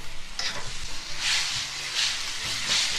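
Burrito filling sizzles and hisses in a hot pan, with a steady frying crackle and a few stirring scrapes over about three seconds, close and fairly loud, no voices.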